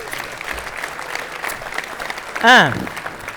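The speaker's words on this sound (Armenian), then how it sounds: "Եկեք լավ, ես ծափերով մոտենամ ձեզ։" Studio audience on an Armenian entertainment show claps in a moderate, even wash, with a short rising whistle-like sweep cutting through near the end.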